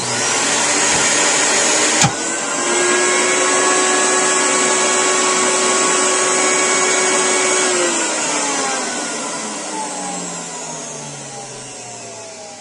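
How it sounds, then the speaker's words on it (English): A vacuum forming machine's vacuum pump roars loudly and steadily after a sharp click at switch-on, holding a constant whine for several seconds before winding down and fading with a falling pitch. "So I'm going to turn on the vacuum."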